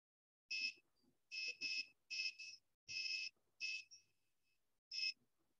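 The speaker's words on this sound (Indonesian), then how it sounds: "Jika 7 cm, buzzer berbunyi." Electronic buzzer in an HC-SR04 ultrasonic distance-sensor project sounds in a series of short, shrill beeps, about seven bursts in an uneven rhythm with brief gaps, close and clear against near silence.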